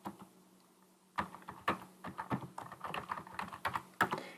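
Someone types on a computer keyboard while entering a school name into a spreadsheet database: a quiet run of irregular clicks and keystrokes, sparse at first, then quicker and denser, close and alone.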